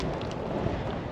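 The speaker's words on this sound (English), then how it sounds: "Super windy out here." Strong wind roars across the microphone outdoors on a fishing trip, a dense, steady buffeting rush with no let-up and no voices.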